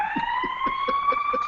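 Emergency sirens wailing steadily across a Chicago street, a continuous rising tone sustained throughout with faint rhythmic low thumps beneath.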